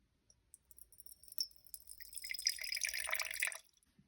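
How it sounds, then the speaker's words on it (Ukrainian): A few soft drips, then unboiled tap water runs and splashes into a clean jar on a scale for a couple of seconds before stopping, close and quiet. "звичайної водички з крана, з краниці не кипяченої"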